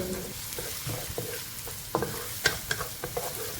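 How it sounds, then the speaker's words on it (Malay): Holland onions being sautéed and stirred in a hot pan for a carbonara spring roll filling, with a soft steady sizzle and scattered clinks and scrapes of a utensil against the pan. "Tumis lagi bagi bawang Holland ni sebati dan layu sedikit"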